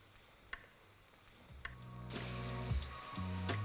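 Spices roast in oil in a pan: chili, turmeric, coriander and cumin. A few soft knocks come first, then a loud sizzle bursts in and keeps going under scraping stirs.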